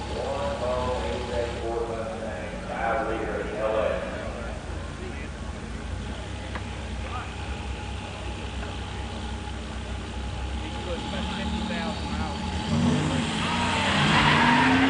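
A 1987 Buick Regal and a 1987 Mustang 302 HO 5-speed rumble at a drag strip, engines idling and revving with a growing roar toward the end, heard under an announcer's commentary.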